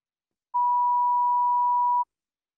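A single steady electronic telephone tone, one unbroken pure beep lasting about a second and a half during an outgoing call, clean and alone against silence.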